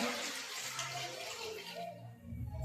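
Water poured into a cooking pot while making vegetable pulao, a steady broadband splashing pour lasting about two seconds, fairly close, then tapering off as the stream ends.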